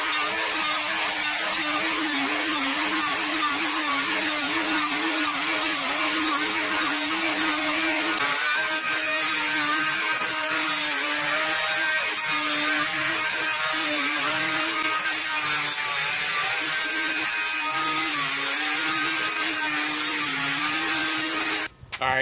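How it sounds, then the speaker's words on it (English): A Bosch router fitted with a 2-inch flattening bit planes an epoxy table slab of spalted maple, a loud, steady high-pitched whine with a constant cutting roar that runs unbroken throughout and stops abruptly at the end. "I have a Bosch router, and that's set up with a 2-inch flattening bit."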